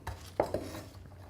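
Kimchi ingredients and cayenne pepper are stirred together in a bowl, with a soft scrape and two quick, close clinks against the bowl before a faint tail of mixing.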